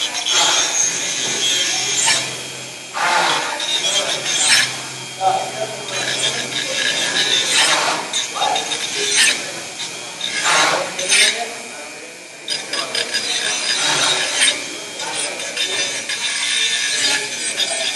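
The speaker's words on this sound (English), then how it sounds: "That's basically how you use a Dremel." A Dremel rotary tool held in two hands, grinding and rasping against material in repeated close bursts with brief pauses, a voice talking over parts of it.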